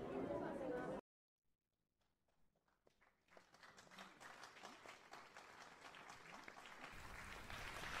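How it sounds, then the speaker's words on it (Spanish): Applause from a crowd at a Palm Sunday procession starts faint and grows steadily louder and denser, continuing for several seconds after a brief loud burst and a pause of near silence. "Suenan los aplausos del público"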